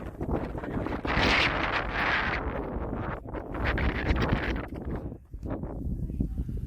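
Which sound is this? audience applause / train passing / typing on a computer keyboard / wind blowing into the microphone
wind blowing into the microphone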